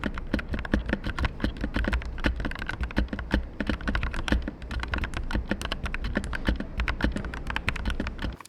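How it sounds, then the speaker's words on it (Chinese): Steady, rapid typing on a Corsair K70 CORE mechanical keyboard, a dense run of close, crisp key clacks with uneven rhythm and no voices, lasting the whole stretch. "简单给大家来一段打字音"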